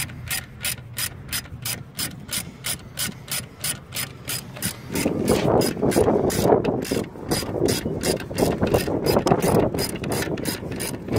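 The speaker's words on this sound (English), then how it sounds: "take 3/8 ratchet with 10mm and tighten this down until we get our desired tension in the belt" A 3/8-inch ratchet with a 10mm socket clicks in a fast, steady rhythm, tightening the alternator belt on a 1996 Honda Accord V6; the clicks stay close and clear, joined midway by louder grinding and rubbing as the belt takes up tension.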